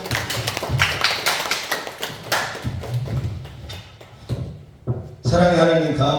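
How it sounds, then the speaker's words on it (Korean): A congregation at a Korean church prayer-house worship service breaks into a burst of clapping, a dense patter of sharp hand claps that fades out before a voice begins speaking. "감사의 박수 힘차게 주겠습니다."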